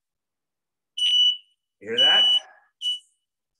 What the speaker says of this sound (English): the smoke detector would beep